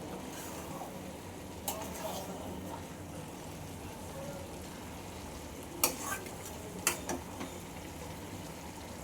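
Mango pickle with sugar being stirred in a pan as it sizzles steadily and softly, with occasional scrapes and clinks of the spoon against the pan.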